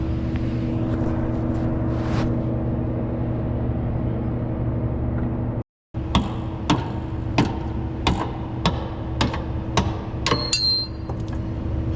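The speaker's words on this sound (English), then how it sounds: "finish hammering her up" Hammer blows on a rear lower control arm bolt of a 2004-2013 Mazda 3, a series of sharp metallic strikes at an uneven rhythm after a brief cut, over a steady hum of nearby machinery.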